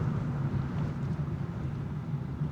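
Road traffic on a mountain route passes as a steady low rumble of engine and tyre noise, mixed with wind, continuous and moderately near with no talk.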